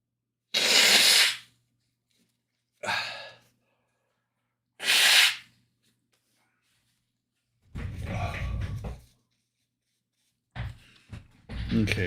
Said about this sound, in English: Every time I sneeze,